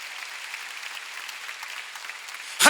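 A church congregation at a Sunday worship service applauds, a dense wash of clapping that holds steady and then swells into a louder burst at the end.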